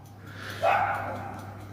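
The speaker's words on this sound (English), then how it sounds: "The dog is barking." A dog gives one short, somewhat distant bark over a low steady hum in an otherwise quiet room.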